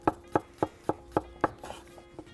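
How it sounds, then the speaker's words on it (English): A knife slices garlic on a cutting board for garlic chips, with six firm, evenly spaced chops followed by several softer, quicker cuts, close and clear with no talking. "when you're making garlic chips, cut more garlic than you need"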